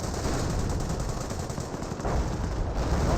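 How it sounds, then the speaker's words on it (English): Incendiary mortar or grenade fire in Company of Heroes, a dense roar of blasts and crackling fire that stays loud and continuous across the clip with no talking. "Another incendiary mortar or incendiary grenade there."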